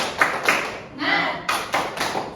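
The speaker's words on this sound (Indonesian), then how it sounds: "Tepuk semangat." A class claps a rhythmic spirit clap in a classroom, sharp grouped claps in a quick pattern with a brief pause in the middle, and a voice calls out between them.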